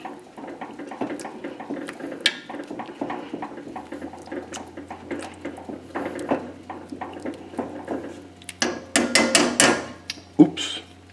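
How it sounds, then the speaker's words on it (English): Lima beans with smoked ham being crushed in a metal pot, giving a string of sharp knocks and bangs that grow louder and more clustered toward the end, over a steady low hum. "just crush up the beans a little bit"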